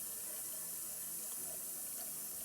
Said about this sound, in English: Off camera here, I have a Brita pitcher,